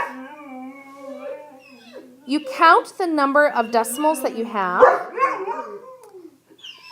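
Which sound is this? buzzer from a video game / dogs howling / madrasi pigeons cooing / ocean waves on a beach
dogs howling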